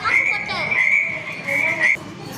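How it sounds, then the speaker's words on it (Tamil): A frog croaks in a 3D animal classroom app, a loud, close, sustained trilling call in two long stretches with a brief break. "ஃப்ராக் பாருங்களா Frog."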